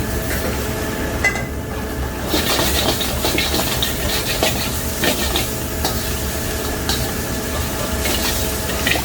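Onion and garlic sizzling in a hot pan while being stirred for a goat bone soup, a loud steady crackling hiss with repeated scraping strokes throughout.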